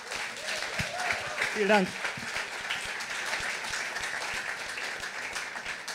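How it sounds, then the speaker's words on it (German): A science slam audience claps steadily throughout, a dense wash of applause, while a voice briefly speaks over it. "Bitte einen herzlichen Applaus"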